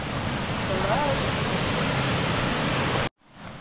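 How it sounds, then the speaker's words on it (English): Waterfall in a gorge at Stony Brook State Park, a loud, steady rushing roar heard from close by, which cuts off abruptly near the end. "Their waterfall over here."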